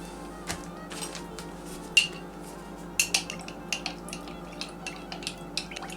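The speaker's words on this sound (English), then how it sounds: "And then I just kind of stir it to taste." Vinegar and honey salad dressing being stirred in a bowl, a series of light clinks and taps from a utensil against the dish, spaced irregularly over a quiet background.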